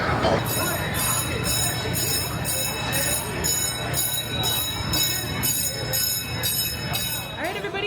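A theme park train pulls into a station at Busch Gardens Williamsburg at night, with a steady rumble, clanking and a high ringing tone under a crowd's chatter. An announcer's voice is heard.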